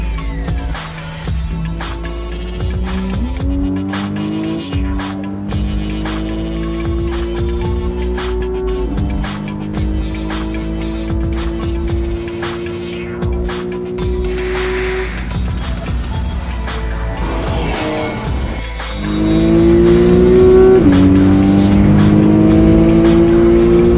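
A car drives fast on the German Autobahn, its engine droning loud and steady inside the cabin. The pitch rises through several gear changes and surges harder toward the end.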